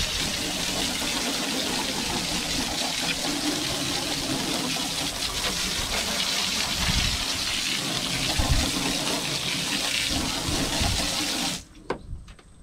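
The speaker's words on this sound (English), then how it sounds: "And then you're gonna basically rinse it right after that." Water rinsing a SeaDek foam boat deck after cleaning, a steady close gushing spray that runs continuously and cuts off near the end.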